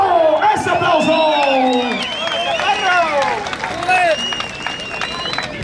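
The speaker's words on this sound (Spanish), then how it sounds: "¡Ese aplauso!" A crowd at a rodeo event in Chicago cheers and whoops for a bull rider, with scattered clapping beneath shouting voices and an announcer, loud and lively throughout.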